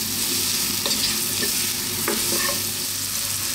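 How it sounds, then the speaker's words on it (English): Mushrooms sizzle steadily in a pan over lively heat, with a few scrapes and knocks as they are stirred around, close and continuous with no talk. "we're just going to fry these around, like I say, on this lively heat for maybe 3 minutes"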